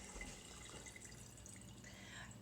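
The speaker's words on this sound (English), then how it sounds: "you're going to turn the water on and you're going to get your hands wet, good and wet" Water runs steadily from a sink tap in a soft, continuous splashing hiss, faint and unbroken with no talking.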